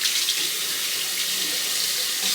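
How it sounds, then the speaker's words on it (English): A tap runs steadily into a sink for a rinse, a close, even hiss of flowing water that holds at a constant level throughout without a break or any voice. "have a rinse"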